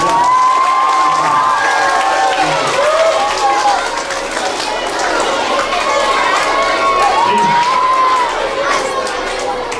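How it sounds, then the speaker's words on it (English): Elementary school children at an assembly cheer, shout and clap in a loud, excited crowd roar, with high voices dominating over scattered applause. "Give a round of applause, guys"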